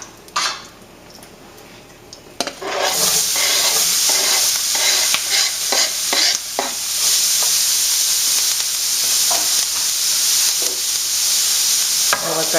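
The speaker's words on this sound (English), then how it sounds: "to the oil that's left in the pan, I'm going to add my onions and peppers" Onions and peppers sizzle loudly in leftover oil in a pan, a steady frying hiss that starts after a quiet moment and continues with occasional stirring scrapes.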